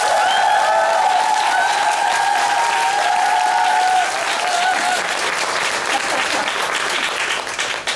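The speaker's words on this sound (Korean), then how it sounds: "그분들을 위해서 박수 한 번만." Steady applause from a Korean musical theatre audience at a closing-performance curtain call fills the space, dense clapping that holds strong then eases slightly, with a few voices calling out beneath it.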